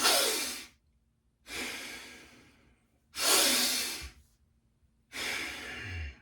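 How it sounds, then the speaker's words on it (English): Four slow, deep breaths, each a long airy rush of air separated by short pauses, heard close and alone with no talking. "Take some deep breaths."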